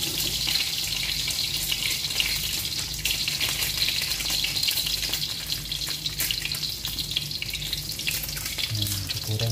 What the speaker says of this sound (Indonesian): menggoreng telurnya